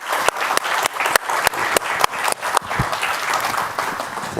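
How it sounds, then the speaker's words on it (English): An audience at a panel dialogue event applauds steadily, a dense wash of many hands clapping at moderate distance, with a few sharper individual claps standing out and no talking over it. "give them a round of applause"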